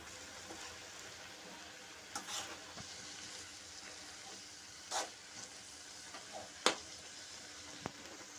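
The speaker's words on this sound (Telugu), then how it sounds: "ఇప్పుడు ఒకసారి కలిపేసుకుందాం." Amaranth leaves frying with onions in a pan as they are stirred, a low steady sizzle with a few sharp scrapes and clinks of the spoon against the pan.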